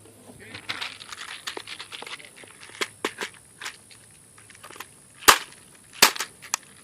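A Ruger 10/22 rifle fitted with a Promag body and fed from a GSG 110-round drum fires a string of small, sharp .22 pops amid handling clatter, fairly faint, with two louder shots toward the end.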